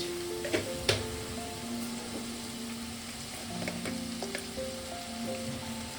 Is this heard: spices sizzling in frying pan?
yes